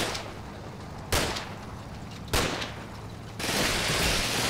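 Rifle fire in the wartime strategy game Combat Mission Red Thunder: two distinct loud cracks with echoing tails about a second apart, followed by a sustained rush of distant battle noise.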